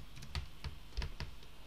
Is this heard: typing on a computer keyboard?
yes